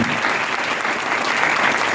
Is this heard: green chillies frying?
no